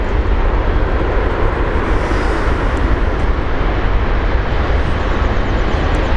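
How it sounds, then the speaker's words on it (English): Air Canada Boeing 777 turning around at foggy London Heathrow, a steady distant jet engine roar that holds evenly throughout, broadband and unbroken, with no talk over it. "Air Canada 777 just turning around now."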